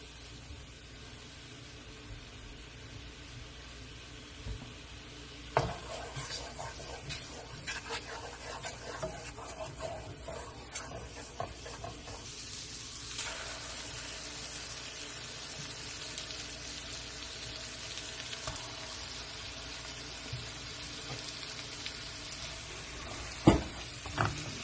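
Garlic butter salmon sauce bubbling toward a boil in a pan, a steady soft sizzle and crackle with occasional stirring clinks, moderately faint and close, with no talking.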